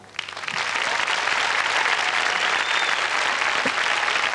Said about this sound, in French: je voudrais qu'on applaudisse très fort le monsieur